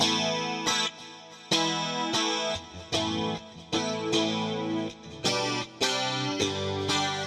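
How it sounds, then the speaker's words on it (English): An electric guitar with its humbucker switched to parallel and the onboard preamp engaged rings out bright, chorus-tinged chords, strummed in repeated hits with short pauses between, close and clear with no talk. "this is the humbucker in parallel with the preamp on"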